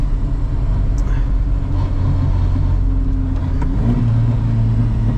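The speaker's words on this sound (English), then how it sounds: "I haven't drifted this spot in Indonesia in a while." A 1988 Volvo 740 GLE drifting in Indonesia, its engine droning loudly and steadily with a pitch rise near the end as revs climb, plus faint tyre and road noise throughout, no voices.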